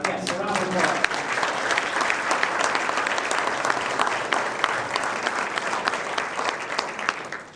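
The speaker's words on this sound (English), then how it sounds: "Yes, a round of applause." An audience applauds student musicians of a PMEA District 12 school orchestra, with dense, steady clapping sustained throughout at a fairly close, even level, some crowd murmur mixed in.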